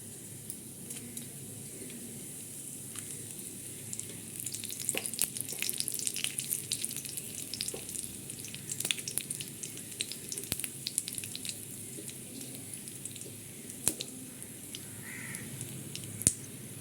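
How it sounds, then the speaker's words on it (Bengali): Whole spices fry in hot oil with a steady, close sizzle and crackle that keeps up throughout; faint crow caws sound in the distance. "তেলটা গরম হয়ে গেছে, এবার আমি এটার মধ্যে গোটা মশলাগুলো দিয়ে দিলাম"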